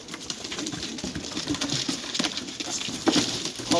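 Mardin tumbler pigeons coo and rustle their wings close by, with continuous soft patter and low calls and no talking.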